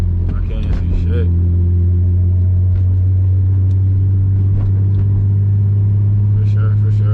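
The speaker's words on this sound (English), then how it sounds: "You know, we like to drive in the rain." An Infiniti G35 fitted with a polyurethane transmission mount drives in the rain. A loud, steady low engine drone fills the cabin, with light rain and wet road noise over it and brief cabin sounds.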